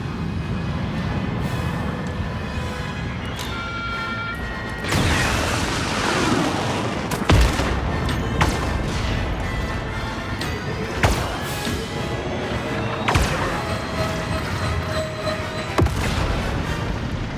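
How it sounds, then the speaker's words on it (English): Upgraded ship missiles in Star Wars Outlaws blow up in a string of heavy booms, several sharp blasts landing a few seconds apart over a constant rumble of space combat. "the upgraded missiles will definitely do enough damage to take out a fighter in one hit"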